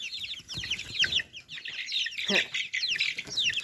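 Several hens, including Brahmas, cluck and chatter close by in quick overlapping bursts, with a few louder squawks standing out.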